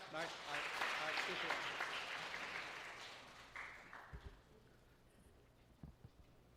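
A church congregation claps to welcome two pastors at a Sunday service, dense applause rising loud at first and then tapering off, with a few scattered claps at the end.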